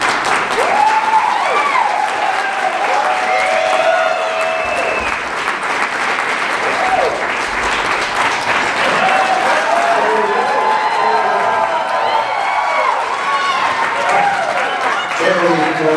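Audience at a school grad night hypnosis show applauding loudly and steadily for the whole stretch, with crowd voices, whoops and cheers layered over the clapping.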